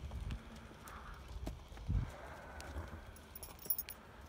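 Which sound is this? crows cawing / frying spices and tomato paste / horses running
horses running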